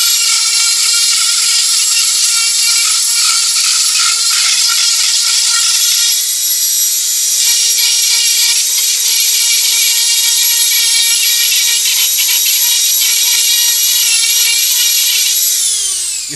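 Dremel rotary tool fitted with an aluminum cutter carving wet wood, giving a loud, steady high-pitched whine that wavers slightly as the bit bites in, then winds down at the end.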